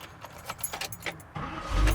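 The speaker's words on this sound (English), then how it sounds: "You have the Door lock key, you have your ignition key right here." Keys for a 1984 Chevrolet C/10 short bed, the door lock key and ignition key with spares on the ring, jingle in a series of close bright clinks before a low rumble of the truck rises at the end.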